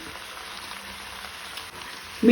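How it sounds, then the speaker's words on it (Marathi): Cluster beans with potatoes go into a pan of frying onions for a Goan bhaji, giving a steady, soft sizzle and crackle that stays constant before a sudden louder bump at the end. "कांदो तळसून जालो तातूंत हांव भाजी घालता।"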